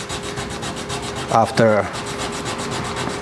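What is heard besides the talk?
sanding knife blade with 400 grit sandpaper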